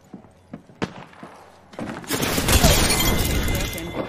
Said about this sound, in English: we get to enjoy the satisfying sound of shields breaking every couple of seconds